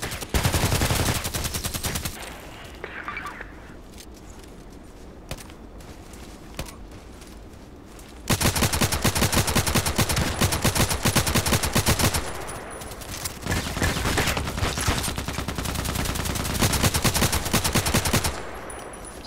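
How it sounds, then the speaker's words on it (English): Gunfire from the online shooter game Contract Wars: dense, rapid automatic bursts rattle loudly, break off into a quieter stretch of scattered shots, then resume in long sustained volleys. "I was shooting there to give the other one a tip where this guy is."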